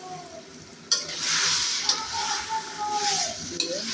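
Chicken skin sizzles in hot oil in a pan and is stirred, a steady frying hiss broken by a few sharp scrapes and clanks of a utensil against the pan, close up with no talk.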